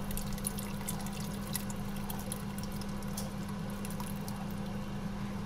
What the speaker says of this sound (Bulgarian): Наливам застройката в супата, като непрекъснато разбърквам.